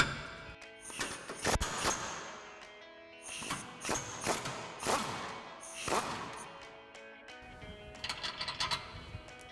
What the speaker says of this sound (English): we'll grab our 19mm socket on our impact and a 19mm wrench. Go ahead and remove this bottom one as well.